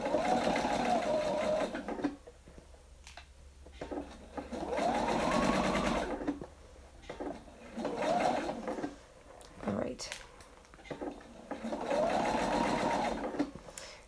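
A sewing machine stitching the seam of a Christmas pillow in quick rhythmic bursts, running in several stretches separated by short pauses, close and clear, with a few soft sounds between runs.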